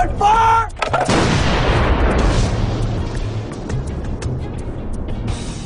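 Artillery gun firing during military combat training: a single loud, close blast at the start followed by a long rumbling decay and echo, with faint voices beneath.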